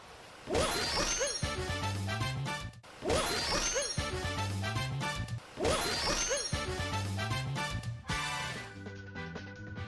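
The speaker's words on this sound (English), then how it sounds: "backflip twice, then cap throw towards the wall with a very precise rhythm" Three identical bursts of Super Mario Odyssey sound effects, each two backflips and a cap throw at a wall: a quick run of thumps, whooshes and a crash in tight rhythm, separated by brief pauses.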